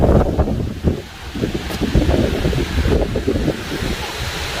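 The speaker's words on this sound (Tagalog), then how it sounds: "Kasi yung lakas ng hangin lang yung maririnig mo eh." Strong, steady wind roars through trees and buffets the microphone throughout, a dense rushing noise with no voices.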